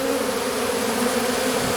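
A honeybee swarm entering its hive makes a steady, dense buzzing drone that continues evenly with no speech.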